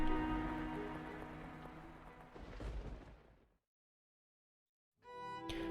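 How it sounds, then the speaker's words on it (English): Rain patters in the video game The House in Fata Morgana: a dense, steady hiss of falling drops that thins out and cuts to silence, then a short burst of rain-like noise returns at the end. "listening to the pitter-patter of the rain"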